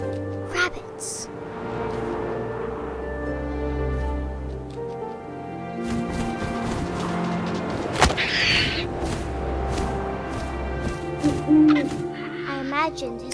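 An owl hoots in the video game What Remains of Edith Finch, low repeated calls under a narrator's steady speech, with soft thuds and ambient game sounds throughout.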